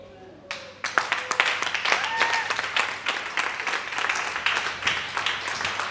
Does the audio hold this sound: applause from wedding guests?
yes